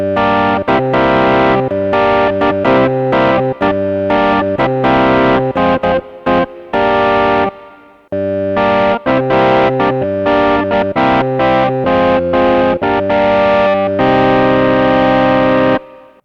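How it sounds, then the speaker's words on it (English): A Yamaha PSR-EW425 keyboard plays a gritty, distorted hard rock organ patch: loud chords and riffs with rhythmic stabs and one brief pause midway, no voices. "Let's listen to a hard rock organ sound."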